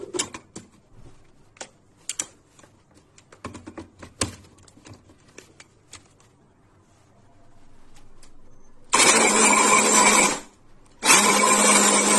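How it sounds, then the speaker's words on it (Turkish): An electric food chopper runs in two loud bursts, with a short pause between them, as it minces hot peppers for a breakfast sauce, after quieter clicks and knocks as it is set up. "Evet şimdi doğrayıcıdan geçirelim."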